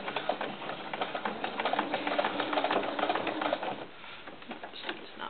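Sewing machine stitching a quarter-inch seam on a small doll cowboy hat, a quick rattling run of needle strokes close by that slows and fades near the end.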